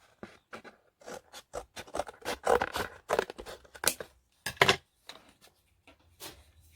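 Scissors cut down a thick piece of card in a series of crisp snips and tearing slices, close and fairly quiet, with brief pauses between cuts and no talking.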